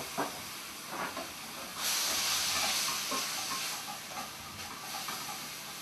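Sherry vinegar hits a hot pan of sautéed mushrooms and sizzles in a soft, steady hiss that swells briefly in the middle, with faint clinks of utensils and no talking.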